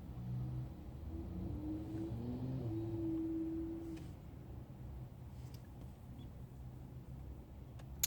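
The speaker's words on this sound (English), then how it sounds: "What in the world is this car doing?" A car drives past with a low engine rumble that swells as it revs, then settles into a steady mid-distance drone over about eight seconds.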